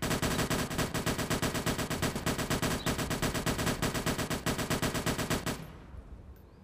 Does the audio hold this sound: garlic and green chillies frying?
no